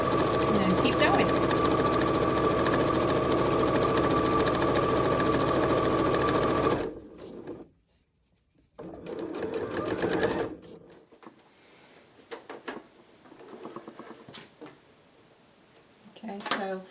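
Sewing machine running steadily and close by as it stitches along the edge of a pleated fabric face mask, a continuous mechanical whir that stops abruptly, followed by quiet handling noises and light clicks.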